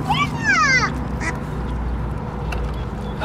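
Ducks being chased quack in a quick burst of several nasal calls close by outdoors near grass and water, followed by quieter ambient rustling and a faint later call.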